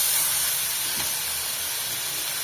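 Water poured into a hot pan of fried potatoes gives off a steady, loud steam hiss that holds evenly for the whole short stretch with no talk over it.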